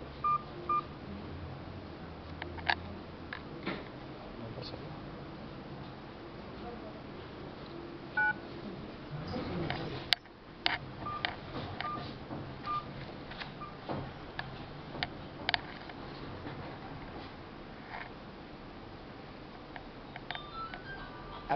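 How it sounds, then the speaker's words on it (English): Telephone keypad tones dialing a mobile-based appliance controller unit, a series of short beeps spread through the clip under faint background noise, with a sharp click midway. "now call from any mobile landline to the respective number fixed to the unit"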